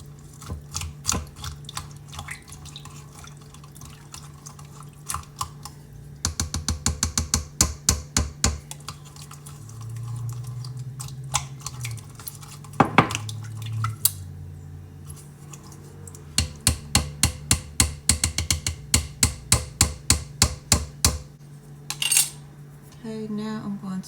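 A spoon stirs black-eyed peas with bouillon in a metal pot, making bursts of rapid rhythmic clinks and scrapes against the sides, loud and close, with quieter pauses between the bursts.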